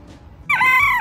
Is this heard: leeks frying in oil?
no